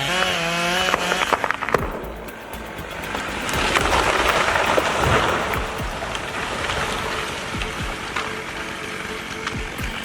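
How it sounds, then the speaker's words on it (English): A chainsaw buzzes steadily through a tree being cut for timber, with crackling wood and irregular knocks in a noisy outdoor setting and no voices. "Each cut is meticulously planned to ensure the tree falls in a controlled manner and maximizes timber yield."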